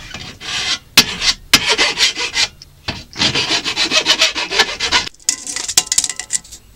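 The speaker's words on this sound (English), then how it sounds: "Grab your flat bastard, or in this case, just an axe file." Flat axe file rasping across metal in long rhythmic back-and-forth strokes with brief pauses between passes, loud and close, no talk.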